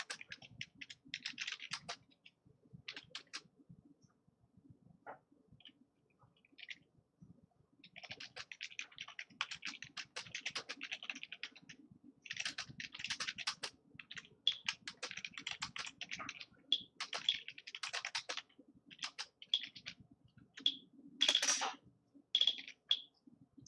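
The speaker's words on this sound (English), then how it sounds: "I'm just typing FTMO." Close, quiet typing on a computer keyboard, keys clattering in irregular bursts and clusters with short pauses between them, heard alone over more than twenty seconds.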